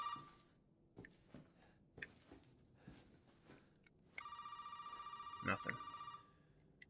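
A telephone rings in Resident Evil 7, a steady electronic ring that starts partway through and holds loud and close, with a brief bump of noise near the end and quiet game ambience before it.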